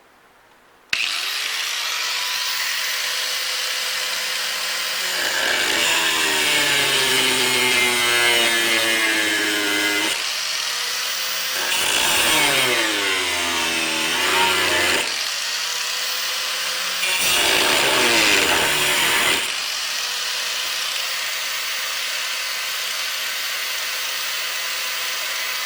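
An electric cutting tool with a thin new blade whines steadily as it cuts out old windshield center glass on a Ford F-series truck, with pitch sweeps and bursts of heavier cutting, close and loud with no talk.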